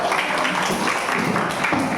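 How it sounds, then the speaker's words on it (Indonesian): A class of students applauds together, a dense and loud wash of clapping that holds steadily for a couple of seconds, with faint voices mixed into it. "Tepuk tangan buat kalian semua."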